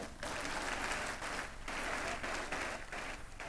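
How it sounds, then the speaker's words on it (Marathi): Audience at a school carnival awards event applauding for teachers, a steady, dense burst of clapping from many hands that holds for several seconds. "या शिक्षकांसाठी एकदा आपण जोरात टाळ्या वाजवूया।"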